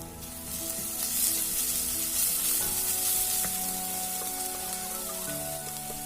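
Shallots sizzling in a pan with ginger garlic paste added and stirred for chicken chukka, a steady close frying hiss with light scraping of the spoon, no talk.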